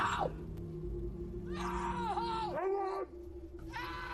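A boy screams as loudly as he can in a scene from the 2012 film Chained, drawn-out wavering cries over a low droning background, loud and close, with brief pauses between shrieks.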